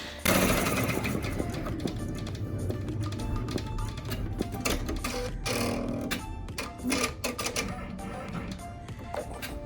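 A longarm quilting machine stitches a small quilt, giving a fast, steady mechanical chatter of needle ticks with rapid rhythmic pulses that run throughout at close range, with faint background sounds but no clear talk.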